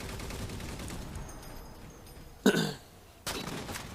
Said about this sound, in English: getting a few sniper kills